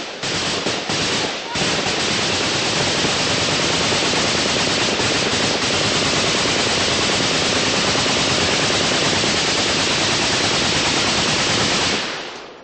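An M60 machine gun fires in one sustained, loud automatic burst lasting about eleven seconds, a dense unbroken roar of rapid shots with a brief stutter near the start, then cuts off abruptly.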